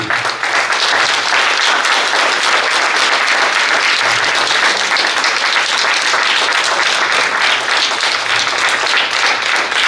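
Sustained, dense applause and clapping from a temple audience at a Bhagavad Gita Avadhanam recitation event, loud and steady throughout with no pauses, the crowd's claps blending into a continuous roar.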